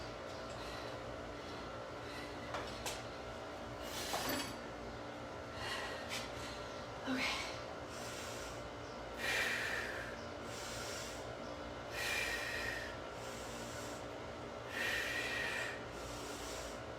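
Heavy breathing during an overhead snatch exercise, with about five loud, rhythmic breath bursts spaced a few seconds apart, close to the microphone over a steady low background hum.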